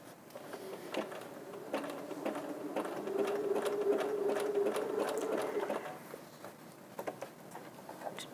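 A sewing machine stitches around the curve of a fabric bowl, its motor whirring in short bursts with a steady mechanical hum in the middle stretch, heard close and fairly quiet with no talking.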